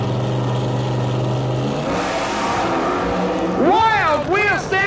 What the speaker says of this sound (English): Wild wheel-standing burnouts by both cars.